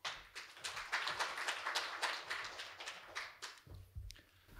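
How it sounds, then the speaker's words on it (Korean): Scattered applause from a conference audience at a corporate strategy forum as a presenter is welcomed, a few seconds of light, uneven clapping that thins out toward the end. "마찬가지로 박수로 모셔보도록 하겠습니다."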